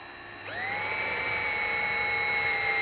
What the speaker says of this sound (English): We're going to drill our first hole right in the place.